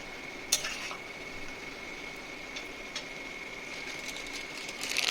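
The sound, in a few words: stirring spices into chicken in a pan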